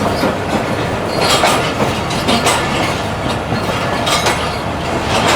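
The Allama Iqbal Express rake rolls slowly onto platform 3, with wheels clattering rhythmically over rail joints and faint squeals under a steady rumble, heard close by with no talking.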